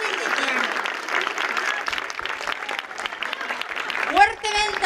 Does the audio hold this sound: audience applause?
yes